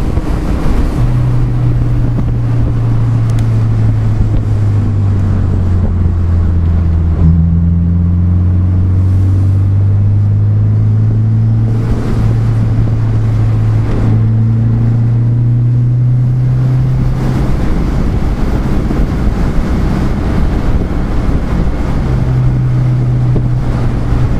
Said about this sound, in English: You mostly hear intake versus the exhaust. The intake's louder than the exhaust is.